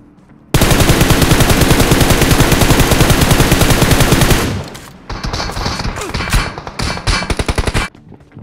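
Automatic gunfire in a battle royale video game, a loud sustained burst of rapid shots for about four seconds, followed by scattered crackling shots and softer game effects.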